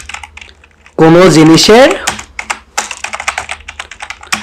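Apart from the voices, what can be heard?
typing Python code on a computer keyboard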